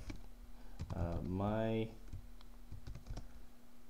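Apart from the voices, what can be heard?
typing a page title on a computer keyboard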